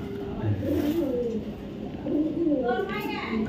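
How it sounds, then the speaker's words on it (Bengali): A pigeon in a loft coos nearby in soft, repeated rolling phrases, while a person speaks over the calls. "একটা কবুতর দেখাবো একদম অরিজিনাল স্পেশাল একটা কবুতর, আমার লফটের স্পেশাল একটা বার্ড"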